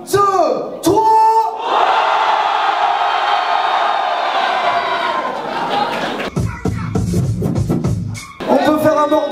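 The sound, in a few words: crowd cheering and applauding rappers at an open mic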